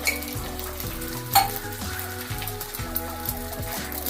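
Hot oil crackling and sizzling as an egg fries in a pan for an egg roll, a busy steady hiss with occasional sharper pops and a brief utensil clink, close and clear with no talking.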